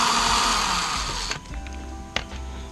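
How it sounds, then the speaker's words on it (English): A small electric drill with a 1 millimeter bit whines steadily at high pitch boring a hole in a Tesla Model 3 mud flap, then winds down and stops, leaving a couple of sharp clicks after. "And then what I did is just a 1 millimeter drill here."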